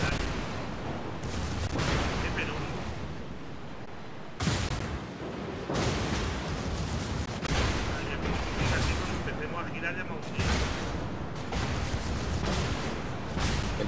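Naval guns and secondary batteries of the battleships North Carolina and Bismarck fire repeatedly in World of Warships, producing heavy rumbling booms in irregular bursts while players talk over the gunfire.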